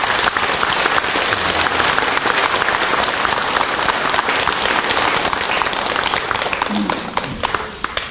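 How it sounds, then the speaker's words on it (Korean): A loud, dense round of encouraging applause fills a Buddhist temple hall during the inauguration ceremony of a new lay association president at Jogyesa, continuous and crowded from start to finish before easing slightly at the end. "가족들이 잘 되기를 기원하는 격려의 박수를 해주시죠"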